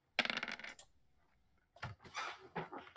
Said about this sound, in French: Et les dés vont décider.